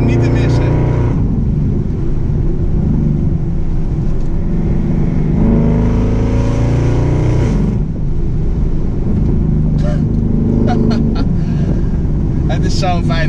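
A Maserati GranCabrio engine revs and drones at close range while driving, rising and falling in pitch, with someone talking over it for most of the stretch.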